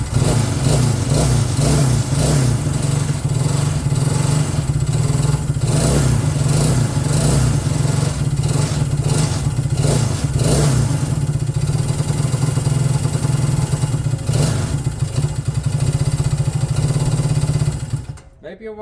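A Honda CB200 motorcycle engine with a suspected loose valve and rough bottom end runs loud and close, a steady throbbing idle with slight revving swells and mechanical clatter, while people talk over it.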